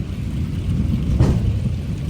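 Thunder rumbles low and steadily through a storm with rain, a continuous dull roar that swells slightly midway, with no voices.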